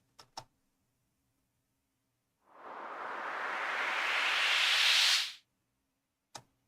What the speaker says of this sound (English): Yeah, that's my noise generator.